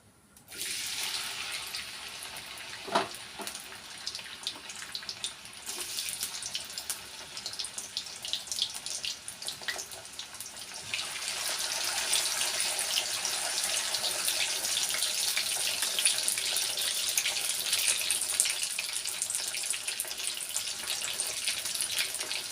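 Pieces of jackfruit seed fry in a hot pan with a steady, close hissing sizzle that swells louder partway through and then holds, with no voices.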